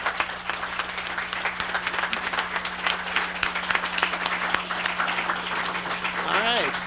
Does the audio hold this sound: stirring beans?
no